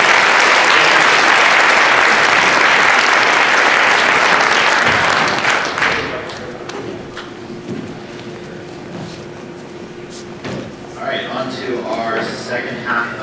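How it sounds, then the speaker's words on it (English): A large tech meetup audience claps loudly for about six seconds, then the applause fades into quieter room noise and scattered sounds. "one last giant round of applause for everybody."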